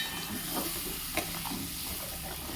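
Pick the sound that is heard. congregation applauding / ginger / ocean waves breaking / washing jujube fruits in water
ginger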